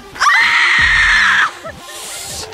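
A woman lets out a loud, sustained high-pitched scream lasting about a second, followed by faint background chatter.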